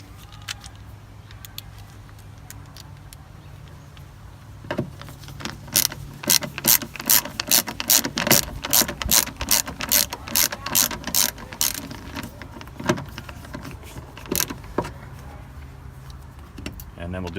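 A ratchet drives tail light screws back into a Honda CR-V, with rapid rhythmic clicking bursts up close, pausing between runs over a quiet background.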